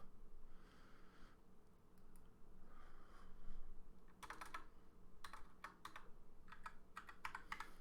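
Bursts of keyboard typing, quick clustered keystrokes in several runs with short pauses, fairly close over a faint background hum.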